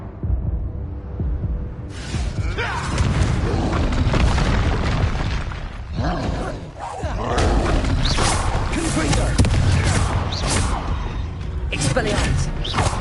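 Blasting spell explosions in the Hogwarts Legacy video game, loud booming bursts over dense battle noise with rumbling impacts, layered under shouted voices throughout.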